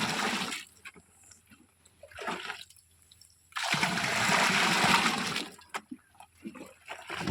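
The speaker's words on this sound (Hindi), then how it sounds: "अब इसको भली भांति बाल्टी से मिक्स कर रहे हैं ताकि ये सारा घोल है वो" Seed treatment solution being stirred in a bucket to mix it evenly, giving bursts of sloshing, splashing liquid separated by quiet pauses, with one longer churning stretch in the middle.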